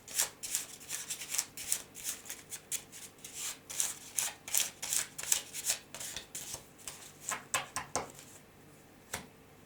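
Tarot cards from a Feelings and Messages deck being shuffled by hand, a rapid series of crisp riffling bursts close up, fairly quiet, with no talking.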